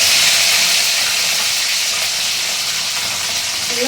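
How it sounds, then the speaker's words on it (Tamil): Cinnamon, cloves and cardamom sizzle steadily in hot oil in a kadai, a continuous bright hiss of frying that stays loud and even throughout with no talking. "கடாயில் ஊற்றிட்டு பட்டை, கிராம்பு, ஒரு ஏலக்காய் போட்டுட்டேன்."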